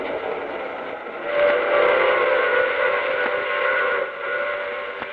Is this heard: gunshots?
no